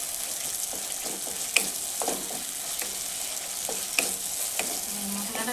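Spice paste frying for a Bengali katla fish curry, with a little water added, keeps up a steady sizzle broken by the occasional scrape and clack of a spoon stirring in the pan.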